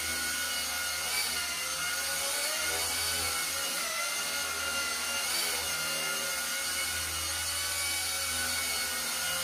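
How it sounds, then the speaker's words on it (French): A small Eachine E130 remote-control helicopter whines with a constant high buzzing drone, its pitch wavering slightly as it flies nearby, loud and unbroken. "Un bon petit hélicoptère"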